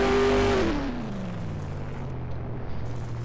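A red sports car in Garry's Mod sounds its engine, which drops sharply in pitch in the first second, then settles into a steady, moderately loud drone.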